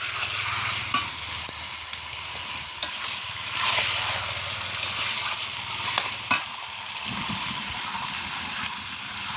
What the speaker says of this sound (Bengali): তো আমি কিভাবে চিকেন রান্না করছি